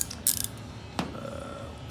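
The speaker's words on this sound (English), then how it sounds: "use just the bit by itself with the wrench, turning it" A wrench turns a T20 bit to back out a screw, a short burst of ratcheting clicks followed by a single sharp metallic snap, close and fairly quiet.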